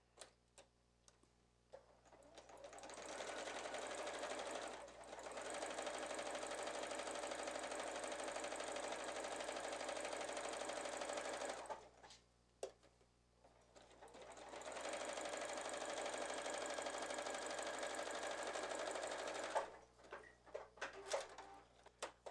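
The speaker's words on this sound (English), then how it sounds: "because we're stitching through the 1 layer fabric, your machine may try to eat the fabric a little bit" A sewing machine stitches through a single layer of fabric for a girls' square-neck sundress, running in two long steady bursts with a brief pause between, close and alone.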